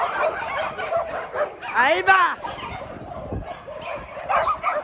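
Dogs at a mountain base during a heavy rainstorm give a short bark and whimpering yelp mid-clip, close by, while someone talks excitedly over steady background noise.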